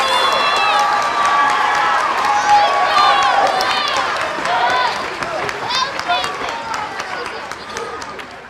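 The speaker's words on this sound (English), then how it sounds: "One more round of applause for our amazing 5th and 6th grade chorus." Audience at a school winter concert for a 5th and 6th grade chorus gives a broad, steady burst of applause mixed with cheering and shouts, gradually tapering off over several seconds.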